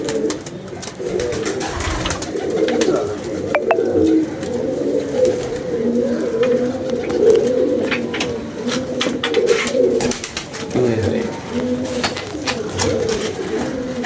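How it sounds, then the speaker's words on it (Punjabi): Pigeons at a loft clap and flutter their wings close by, a dense rustling wash that runs steadily throughout, with soft cooing mixed in and no speech. "ਕਬੂਤਰ ਯਾਰ ਠਾਪਾ ਮਾਰੀ ਜਾ ਰਹੇ ਨੇ"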